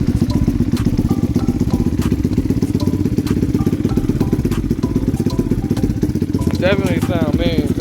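A Lifan KP Mini 300 motorcycle with a ZS175FMN engine runs close by with a rapid, steady thumping idle, and voices come in over it.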